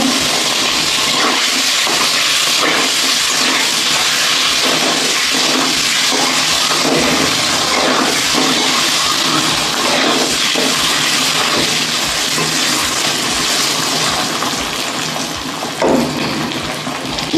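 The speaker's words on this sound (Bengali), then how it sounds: "আমি ডিমগুলো এবার ভেজে নেবো" Eggs frying in hot oil in a pan make a loud, unbroken hiss and sizzle that runs evenly from start to finish, with no voices.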